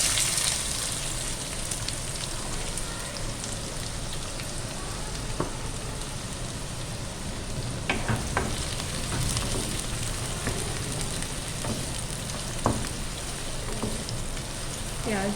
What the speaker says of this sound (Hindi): थोड़ा इसको सौते करूँगी, कलर चेंज होने की तक मैं इसको फ्राई करूँगी।